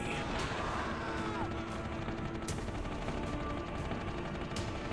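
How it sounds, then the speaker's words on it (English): Continuous rapid gunshots striking a wall in the video game Blood, a harsh, dense barrage with sharp cracks punctuating a steady roar of game noise. "Please stop shooting at the wall so I can go in and actually play the game."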